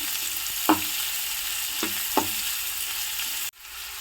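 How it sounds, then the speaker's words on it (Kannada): About a cup of onions sizzling in a pan with green chillies for spicy green chicken, a steady close hiss broken by a few spatula scrapes, ending abruptly, with no speech. "ಈಗ 1 ಕಪ್ಪಷ್ಟು ಈರುಳ್ಳಿ ಹಾಕೊಳ್ತಿದ್ದೀನಿ. ಸ್ವಲ್ಪ ಚೆನ್ನಾಗಿ ಫ್ರೈ ಮಾಡಬೇಕು."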